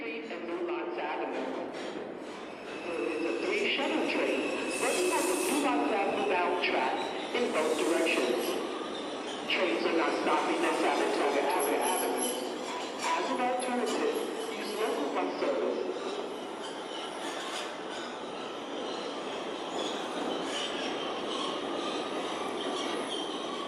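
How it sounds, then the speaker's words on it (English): A Manhattan-bound 5 train on the New York subway rumbles along the tracks with steady rattling, wheel squeal and clatter, loud and close from inside the car, with a brief voice in the background. "This is a Manhattan-bound 5 train."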